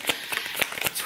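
Tarot cards being shuffled by hand, a quick run of crisp riffling flicks with sharp papery snaps, close and fairly loud with no talk.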